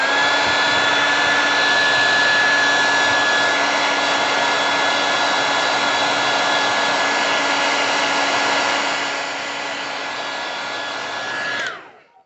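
A heat gun blowing hard on heat-shrink tubing over wiring on a 1985 BMW 635 CSI, a loud, steady whooshing drone with a constant whine that holds, dips slightly, then cuts off abruptly at the end.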